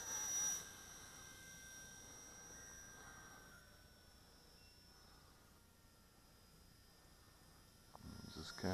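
Blade 200 SR X small RC helicopter flying outdoors on a calm day, a thin steady high-pitched rotor and motor whine that is faint and distant, continuous throughout with light wind noise.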